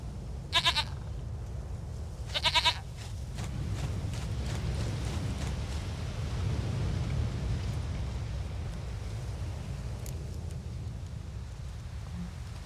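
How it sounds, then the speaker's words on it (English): Two short goat bleats from the video game The Witcher 3, each a quick quavering burst, heard early against a steady low ambient rumble of the game world, with no talking. "Goat of mine, dearest,"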